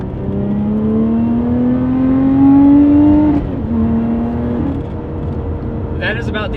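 A Lotus Evora GT's V6 engine revs up, rising in pitch as it accelerates, briefly drops with a gear change, then pulls again, loud and close.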